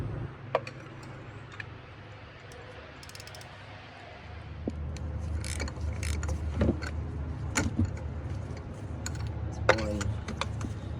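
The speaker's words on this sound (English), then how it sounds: "we can go ahead and use our extension with a 14 millimeter socket" A Honda Accord spark plug being loosened with an extension and a 14 mm socket: scattered, close mechanical clicks and ticks, some sharper and louder near the end, over a low steady hum.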